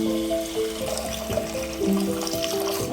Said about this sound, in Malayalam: ഇനി അതിനകത്തേക്ക് വെള്ളം ചേർത്ത് കൊടുക്കാം